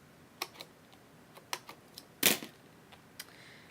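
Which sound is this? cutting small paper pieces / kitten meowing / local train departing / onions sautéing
cutting small paper pieces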